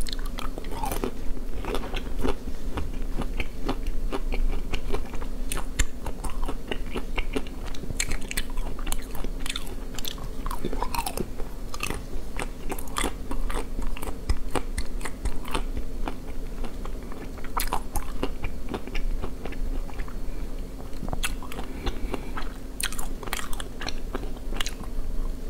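Biting and chewing ice cream up close, with sharp crunchy bites and wet mastication repeating irregularly over a steady low background hum, continuous for the whole stretch.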